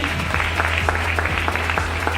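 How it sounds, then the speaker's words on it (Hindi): An audience at an educational training session applauds for a woman, giving steady, sustained clapping with crisp hand strikes over a low background hum. "मैम के लिए एक जोरदार ताली होना चाहिए।"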